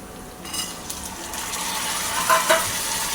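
Cluster beans (guar) fry with onion in a pan, making a soft, steady sizzle that grows slightly louder, with a couple of light metallic clinks near the end.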